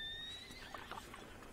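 A horse in Red Dead Redemption 2 gives a short, faint whinny with a few soft hoof sounds, brief and quiet with no talk.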